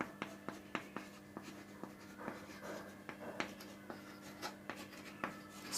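Chalk tapping and scratching on a board during a class 12 maths lesson on determinants, with quick repeated strokes and taps at an irregular rhythm, faint and close with a quiet room behind.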